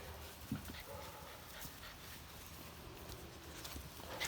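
Catahoula cattle dog puppies move about nearby, with soft panting, a faint whimper and light scuffling paws over a steady background hiss, no voices.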